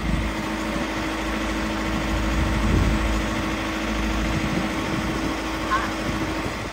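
A Kia diesel engine idles roughly and unevenly after its injectors have been changed, a low, steady rumble with slight vibration heard close up, with no talking over it.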